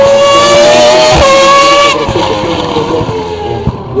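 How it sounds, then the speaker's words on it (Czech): A 1997 Ferrari Formula 1 car racing at Brno, a loud high-pitched engine scream that drops in pitch as the car passes close by and fades into the distance. "Tak teď se pro ně dohání monopost Formule 1 z roku 1997"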